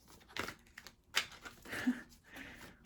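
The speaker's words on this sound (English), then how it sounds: "I'm just laughing at my shuffling." Tarot cards being shuffled by hand, with several soft papery riffles and slaps spaced unevenly, close and fairly quiet.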